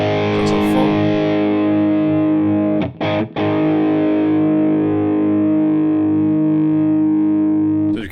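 Electric guitar played through a Fender Hammertone Overdrive pedal with the tone knob turned fully up, giving a loud, sustained, bright distorted chord that rings on with two brief choppy breaks near the middle.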